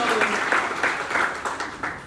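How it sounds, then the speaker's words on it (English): An audience at the Ithaca downtown conference center opening claps, the crowd noise pulsing in short swells while a voice seems to talk over it. "please give yourselves a round of applause"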